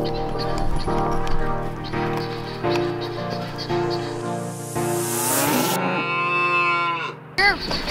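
A mid-miniature Jersey family cow on a homestead moos repeatedly, long loud drawn-out calls close by, with a sharp final bellow at the end.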